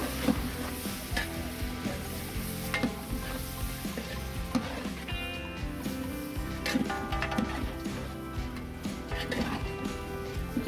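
Mixed vegetables with turmeric and curry leaves are stirred as they fry in oil for village-style South Indian sambar, with a constant sizzle and repeated scraping knocks of a spoon against the pan, close and unaccompanied by talk.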